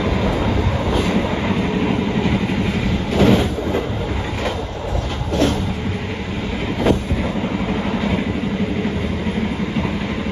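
KA Taksaka passenger train running on rails between Yogyakarta and Jakarta, a steady rumble of wheels and carriages with faint clickety-clack rhythm and occasional brief squeaks, heard from inside the coach with no talking.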